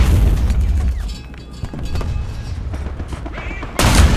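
Gunfire and booming cannon shots in War Thunder tank combat with an M8 HMC, heavy low impacts and rumbling blasts, loud and close, ending in a sharp burst.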